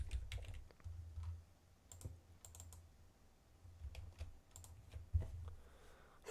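Keys on a computer keyboard being tapped to enter a spreadsheet formula, with quiet irregular clicks, some in quick bursts with short pauses between, close by in a quiet room.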